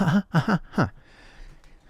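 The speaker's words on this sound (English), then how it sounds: "Let me clear my throat." Someone clears their throat in three quick, rough bursts, close and distinct, followed by quiet.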